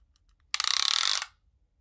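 A tape measure pulled out for fursuit measurements gives a single quick, close ratcheting rattle lasting under a second against near silence.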